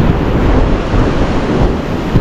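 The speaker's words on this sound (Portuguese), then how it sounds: "o vento tá muito gelado aqui na praia" Cold wind gusts across a Guarujá beach, a loud, steady broadband rush buffeting the microphone throughout with no voices.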